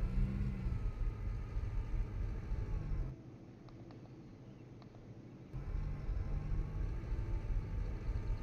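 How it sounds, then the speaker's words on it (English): A tractor engine from the farming game Cattle & Crops rumbles steadily at close range, loud and continuous, then drops out briefly before the same droning roar returns. "Engine sounds are not always, I think, as realistic as they could be."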